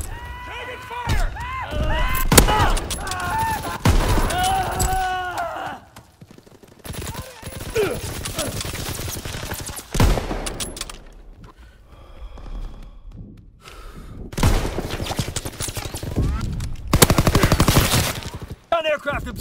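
Bursts of gunfire in a Call of Duty game, loud cracking shots in clusters broken by quieter gaps, mixed with game announcer voices and other in-game speech.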